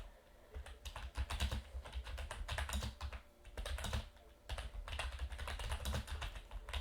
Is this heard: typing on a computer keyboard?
yes